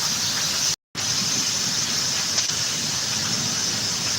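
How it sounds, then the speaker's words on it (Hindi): Rain pours during a storm, a steady broadband hiss with a bright high-pitched wash, continuous and loud apart from a brief dropout near the start. "ये बारिश हो रही है अभी"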